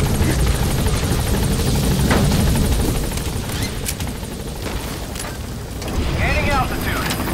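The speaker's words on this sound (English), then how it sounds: "Please support helicopter Roger." A helicopter's rotor in the video game Metal Gear Solid V: The Phantom Pain thrums loudly and steadily, with bursts of distant gunfire and booms mixed in and a voice briefly speaking over it.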